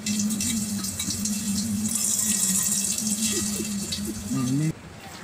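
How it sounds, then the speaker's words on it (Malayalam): A motor pumping water into a homemade fish tank, a steady splashing and running flow with a low motor hum, close and continuous, then cutting off abruptly near the end; faint voices may sit underneath. "മോട്ടർ ഇടും"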